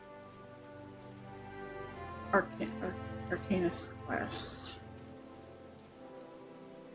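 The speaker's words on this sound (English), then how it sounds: "It's raining." Steady rain falls in Final Fantasy XIV, a soft continuous patter running through the scene while a person talks over it and game sounds chime in briefly.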